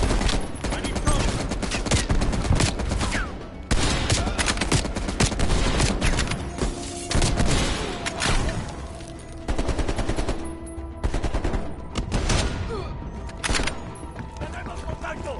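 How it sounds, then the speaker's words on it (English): Heavy machine gun fire in Call of Duty Black Ops, sustained loud bursts of rapid automatic shots with brief gaps, layered with battle noise and shouted voices. "Take out that heavy MG!"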